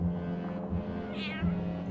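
A cat meows once or twice, fairly close, over a low steady background hum in a haunted castle setting.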